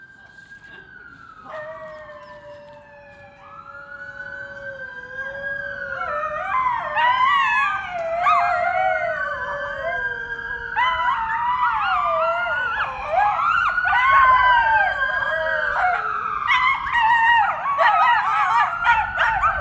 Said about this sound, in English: we heard these urban song dogs howl for the first time in response to sirens